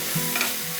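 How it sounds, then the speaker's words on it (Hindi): Mushrooms being tossed in a pan with chopped coriander and spring onions, giving a brief soft stirring and light sizzle, close and fairly quiet, with no voices. "अब हम इसको सिर्फ एक टॉस कर लेंगे।"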